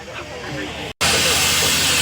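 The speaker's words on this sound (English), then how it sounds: "Here is the steam truck, just letting off a bit of pressure." A loud, steady rush of hissing steam bursts out of a vintage steam lorry letting off pressure after a brief silent gap, roaring at close range over a low mechanical background.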